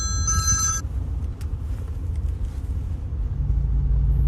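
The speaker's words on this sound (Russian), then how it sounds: "вот отсюда звонок идет" A mobile phone ringtone chirps briefly from inside a bag left behind in a car, heard over a steady low engine rumble.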